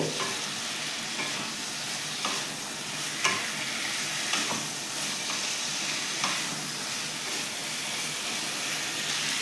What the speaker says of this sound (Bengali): এগুলো সব ভালো করে মশলার সাথে মিশিয়ে নেব